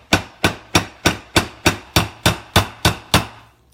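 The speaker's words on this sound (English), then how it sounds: "The hammer strike on the blades, it's not going to dent it because these blades are already heat treated." Hammer tapping a pin into the finger guard of a heat-treated Loveless-style fixed-blade knife, eleven sharp, evenly spaced metallic strikes in a steady rhythm, close and loud with no talk.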